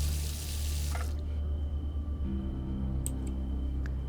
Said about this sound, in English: You can wash yourself and drink some water right from the sink